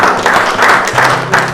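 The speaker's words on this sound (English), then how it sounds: "Clap." Hands clapping at an even pace, several sharp claps in a row at a ceremony where a crown prince steps forward, loud and close with no voices over them.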